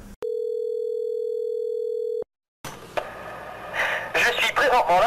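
A steady telephone dial tone sounds for about two seconds during an attempted call, cuts out, and is followed by noisy background and a voice.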